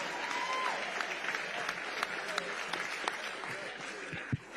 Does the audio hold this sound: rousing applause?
yes